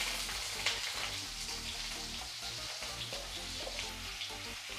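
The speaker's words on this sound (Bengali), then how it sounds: "ফোড়ন ভেজে নিয়েছি, এখন তেলের মধ্যে দিচ্ছি লম্বা করে কেটে রাখা আলু।" Long-cut potatoes frying in hot oil with whole cumin and green chillies, a steady dense sizzle that runs throughout, close and even, with no voices.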